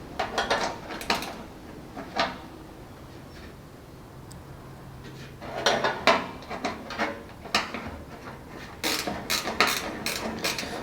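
An old ratchet spanner clicks in short bursts while undoing the fittings on the front bar of a Holden Torana GTR XU-1 LJ. Metal tools clink in between, and the sounds come in irregular bursts separated by pauses.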